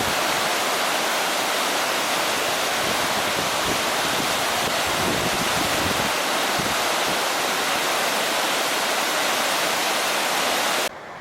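Rushing mountain creek water at Palisade Creek on a high-country hike, a steady loud broadband roar of flowing water close by, continuous and unbroken with no voices.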